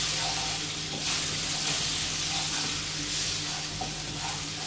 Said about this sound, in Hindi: बटर को अच्छे से गर्म कर लेते हैं।